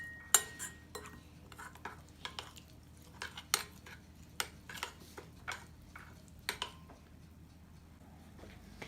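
Utensils clink and tap against a bowl while marinade ingredients for Moroccan grilled chicken are mixed, a series of faint, irregular metallic knocks and scrapes over a quiet background with no speech.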